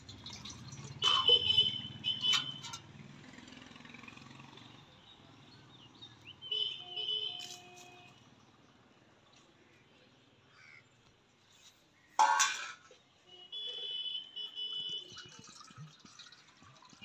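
Water being poured and trickling into a bird water dish on a rooftop, with faint dripping and splashing amid crows cawing nearby, quiet outdoor setting without talk.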